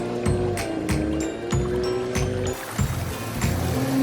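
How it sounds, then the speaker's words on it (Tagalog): Cartoon water babbles and splashes in a steady flow, with rhythmic lapping pulses and some bright plinking accents over a continuous wash, fairly close and moderately loud, with no voices. "Ang linaw ng tubig at ang sarap pakinggan ng lagaslas."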